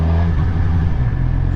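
A Suzuki GSX-R 600 motorcycle pulls away in first gear, its engine droning loud and close with a steady low rumble and no one speaking.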